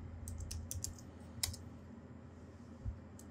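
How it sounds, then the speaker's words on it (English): Password keystrokes on a keyboard while setting up SteamOS alongside Windows on a Steam Deck: a few faint, soft key taps in small clusters, with a couple of slightly firmer presses over low background hum. "and then type your password."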